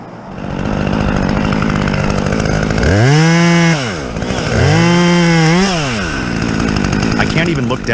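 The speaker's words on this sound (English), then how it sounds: "from chainsaws that scream through giant logs" A chainsaw roars loudly and continuously, its engine revving up twice as it bites into a giant log, then dropping back to a rough idle.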